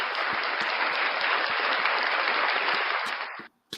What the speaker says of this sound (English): round of applause for the best fans in the world